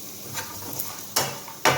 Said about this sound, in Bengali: বাদামটা একটু হালকা করে ভেজে নিই আগে